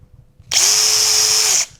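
Power drill boring a small hole through wood with a backing board beneath, a single loud high whine lasting about a second, starting and stopping abruptly, with no voices.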